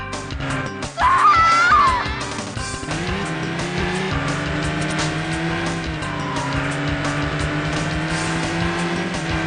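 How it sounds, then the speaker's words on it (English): Tires squeal sharply in Code R, a Sega Saturn racing game, as a car corners hard. A loud screech opens the clip, then a steady engine drone with a bed of game music carries on to the end. "スキールバリバリ。"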